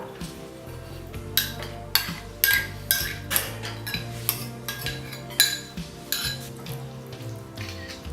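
Golbangee noodles, sauce and vegetables get tossed together in a bowl, with steady clinking and scraping of utensils against the dish in an uneven rhythm over a low background hum.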